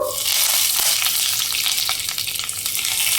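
Curry leaves crackling and frying in hot oil with a mustard, cumin, green chili and split gram tempering for a papaya curry, a loud, steady, dense sizzle that fills the whole stretch close up, with no talking.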